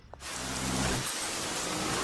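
Heavy rain pours steadily, a dense, loud hiss that starts abruptly and holds without a break.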